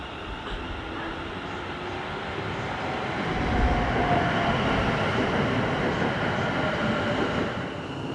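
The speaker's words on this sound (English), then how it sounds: "I can see the train coming now." A Class 730/2 train rumbles steadily nearby as it arrives at a station, its broad roar swelling slightly midway as it rolls in, with faint rail hiss throughout.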